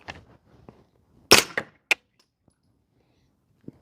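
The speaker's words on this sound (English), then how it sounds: "Here's the B&T suppressor again." A 9mm pistol fired through a B&T suppressor gives one sharp, fairly loud muffled crack, followed by a few faint clicks and rattles of the action in an otherwise quiet setting.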